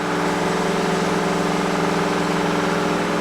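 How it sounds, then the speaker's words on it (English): Engines on a former New Zealand Navy ship run steadily in the engine room, producing a loud, constant mechanical drone with a low throb. No voices are heard over it. "Have a look at these engines. These engines are amazing."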